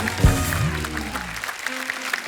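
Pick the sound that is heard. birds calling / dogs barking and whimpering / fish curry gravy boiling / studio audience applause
studio audience applause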